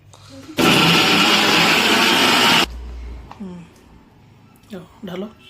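A small mixer grinder jar blending washed onions into a fine paste, a loud, roaring whir lasting about two seconds that cuts off abruptly, followed by a quieter stretch with someone speaking.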